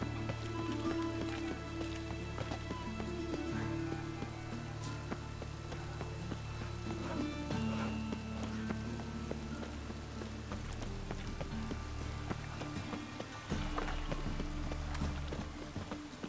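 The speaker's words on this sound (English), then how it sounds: "It's raining buckets." Steady heavy rainfall in The Witcher 3: Wild Hunt patters continuously throughout, dense and fairly loud, with faint low rumbling underneath and no speech.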